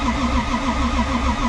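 A Toyota 3.4 stroker 2JZ engine in a JZX100 cranks on the starter, a loud close rhythmic whirring churn with a steady repeating pulse and no catch or firing.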